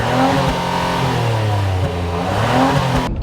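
A 2018 Acura TLX accelerating hard, its engine roaring loud and close as the pitch climbs, dips with a gear change near the middle, then rises again before cutting off abruptly.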